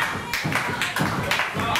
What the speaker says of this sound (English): Joe gets some clapping from the crowd, feeding off the audience